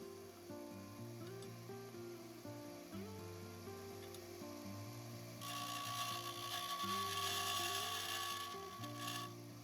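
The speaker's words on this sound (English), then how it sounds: "For this, I'm going to turn to my disc sander." A disc sander grinds a silver cross pendant, a steady whirring drone that turns harsher and louder with a bright, rasping hiss midway as the metal presses against the disc, then eases back.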